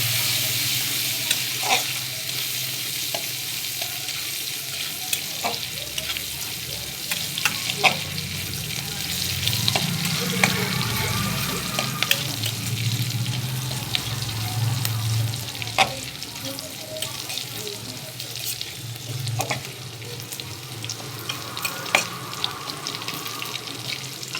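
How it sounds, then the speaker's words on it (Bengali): Garlic paste and green chilies fry in hot oil in a pan while tempering for a mung dal and vegetable dish, giving a continuous close sizzle broken by repeated sharp scrapes and clinks from stirring. "এবারে দিয়ে দেব রসুন বাটা আর কাঁচা লঙ্কা। দিয়ে আমি লাল করব।"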